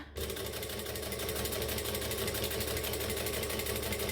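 A sewing machine runs steadily on a long decorative stitch, its needle hammering in a fast even rhythm with a mechanical hum, close and continuous after a brief quiet start; the bobbin is nearly empty.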